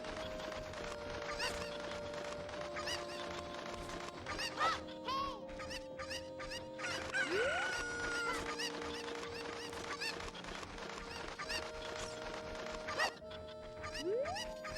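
Cuckoo chickens from the video game Ocarina of Time cluck and squawk continuously over background game music, with rising electronic effects now and then, steady and moderately loud.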